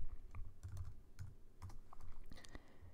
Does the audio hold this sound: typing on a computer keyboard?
yes